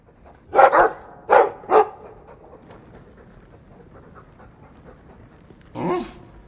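A dog in the Dragon Age II video game gives a quick run of four close, loud barks, then falls quiet before one softer bark-like woof near the end.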